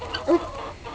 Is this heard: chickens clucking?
yes